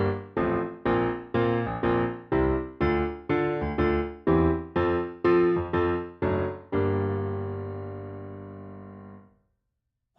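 Piano playing a song in a shuffle rhythm, about a dozen evenly spaced, bouncing chord strikes up close, then a final chord left to ring and fade out.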